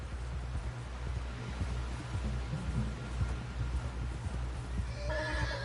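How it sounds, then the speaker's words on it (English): A horse in Red Dead Redemption 2 plods along with steady clip-clop hoofbeats over a low rumbling background, then lets out a loud, high whinny near the end. "Someone help John down off this horse."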